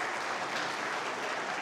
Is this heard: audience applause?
yes